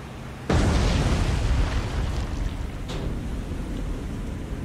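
A torpedo exploding against a ship in the naval game War on the Sea: a sudden loud, close blast followed by a sustained roaring rumble that slowly fades, with a fainter secondary burst later.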